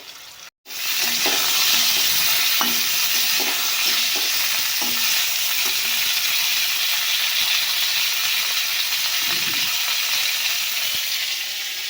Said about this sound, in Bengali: আলুতে একটু নুন আর হলুদ দিয়ে ভাজা করে নিচ্ছি, ঢেকে দেবো।